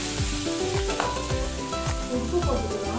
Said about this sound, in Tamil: தூள் பொரியட்டும்.